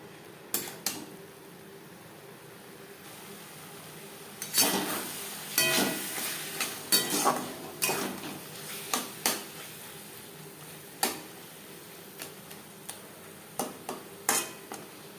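Chicken being stirred with spices in a pan for chicken ghugni, with intermittent metallic clinks and scrapes of a spatula against the pan, sparse at first and then clustering in the middle, over a quiet background.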